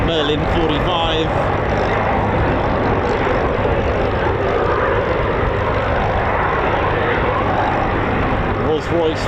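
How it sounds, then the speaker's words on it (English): A Supermarine Spitfire with its 27-litre Rolls-Royce Merlin 45 engine roars past at a flypast, a loud, sustained propeller drone that fills the whole stretch, with crowd voices briefly audible at the start. "Nice 27-litre Merlin 45."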